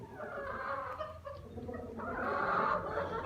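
Two hens and two roosters cluck softly and continuously in a coop, with a rooster's voice rising louder toward the end over steady background noise.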